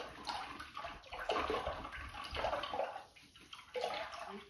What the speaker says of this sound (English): rinsing out my brush.